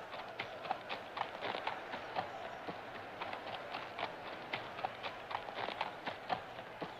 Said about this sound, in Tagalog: Papasok na ngayon sa racetrack ang mga kasaling kabayo.